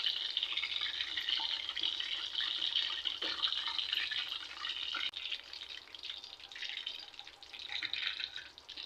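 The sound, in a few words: adhirasam dough frying in hot boiling oil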